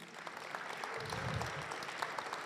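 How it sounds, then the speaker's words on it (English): Audience applause at a community storytelling show: a fairly quiet, steady patter of clapping from a modest crowd that swells slightly in the middle and continues to the end. "So a round of applause just to say thank you"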